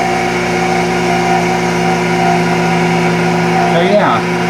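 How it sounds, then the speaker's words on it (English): A phase converter motor hums steadily with layered tonal whine, then near the end winds down as its pitch sags and fades after shutoff. "let's go ahead and shut it off now. And the motor's going to wind down."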